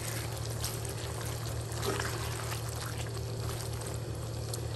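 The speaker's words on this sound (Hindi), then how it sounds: "मुझे थोड़ी सी ये गाढ़ी लग रही है तो मैं इसमें थोड़ा सा पानी डाल रही हूँ, 5-6 टेबल स्पून" Water pours into a thick paneer butter masala gravy in a pan, a steady continuous splashing stream over a constant low hum of the stove, close and fairly loud throughout, with no talking.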